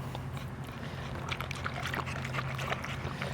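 Water pours steadily and splashes close by while a dog is being bathed, a continuous wet rush with small sloshing bursts and no talking.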